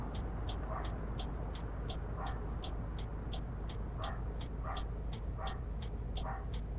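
A tied-up dog in the Fernbus Simulator driving game barks and whimpers in a steady, repeating series of yips, moderately loud over a constant low rumble of bus engine and road noise.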